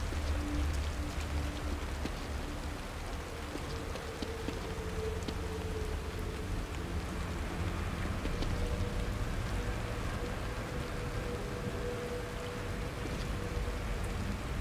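Steady, dense video-game rainfall pours without a break, a constant hiss of drops with a low rumble beneath and no voices.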